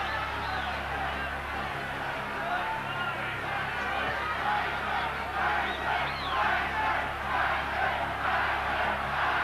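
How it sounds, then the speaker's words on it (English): A boxing arena crowd jeers in the last round, a dense, sustained roar of voices that swells in waves and carries on steadily throughout. "And there's jeering coming in the last round."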